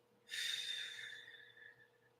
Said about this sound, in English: Take a deep breath in and blow it out.